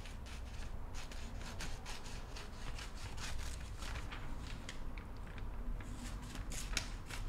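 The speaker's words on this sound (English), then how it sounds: "I'm going to cut the border." Scissors cut along the border of paper collage material, producing a quiet, steady run of rapid crisp snips and rustling paper close up, with no talking.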